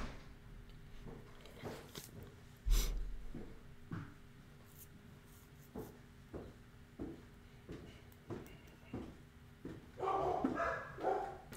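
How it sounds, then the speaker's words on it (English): Dog barking indoors, a series of short, fairly faint barks and yips spaced a second or so apart across the stretch, with rustling and a brief louder burst of noise near the end. "That's a good dog."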